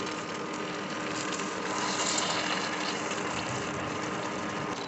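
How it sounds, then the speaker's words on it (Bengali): Egg curry is poured slowly into a hot tadka in a pan, producing a continuous close hiss and gushing sizzle that stays even throughout, without any voices. "আমি এবার আস্তে আস্তে ডিমের এটা এর মধ্যে ঢেলে দিচ্ছি।"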